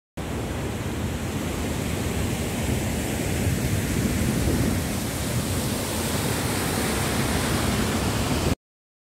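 A small waterfall on a stream flowing into the Katun River: steady rushing water pours continuously, a broad even roar of falling water that holds constant without pause or voices.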